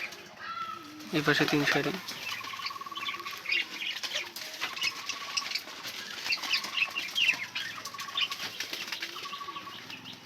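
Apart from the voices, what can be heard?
pigeons cooing and flapping wings in coop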